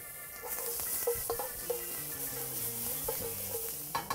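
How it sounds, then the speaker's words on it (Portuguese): Food stir-fried in a concave wok, a steady close sizzle with scraping and tossing sounds recurring throughout, no voices. "Por isso que os orientais inventaram esse wok, essa panela côncava, porque eles salteiam tudo na panela."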